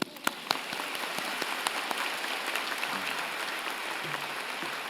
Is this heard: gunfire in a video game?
no